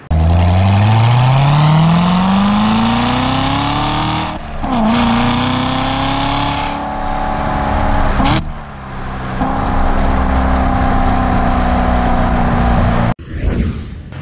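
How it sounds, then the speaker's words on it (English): A loud 2016 Corvette convertible exhaust roars as the engine revs up, then settles and drones, with a few sharp shifts and a brief cut near the end. "now it's time for, you know what, exhaust note"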